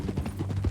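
A horse's hooves clip-clop a few quick, even beats in Red Dead Redemption 2, close and moderately loud over a low steady hum.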